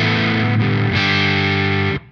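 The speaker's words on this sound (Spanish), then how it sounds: "pasa a ser un pedal de overdrive tranquilo con triple control de ecualización" An electric guitar runs through an API TranzFormer GTR pedal set for mild overdrive with the pad engaged. Sustained, gently distorted chords ring loud and close, change once or twice, then stop abruptly.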